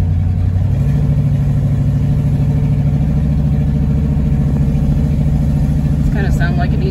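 A 1972 Oldsmobile Cutlass cruising around a yard: a steady, close engine drone holds throughout at an even pitch, with a brief voice near the end.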